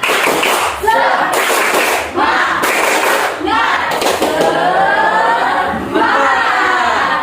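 Students stand for a 'tepuk semangat' spirit-clapping chant in class, loud unison shouting broken by bursts of claps and thumps in a lively, repeating rhythm.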